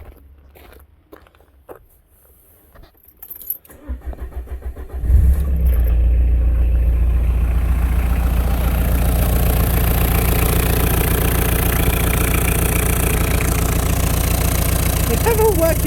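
A diesel van engine turns over after a few quiet seconds of faint handling noises, then catches and settles into a loud, steady, rumbling idle that runs without a break to the end.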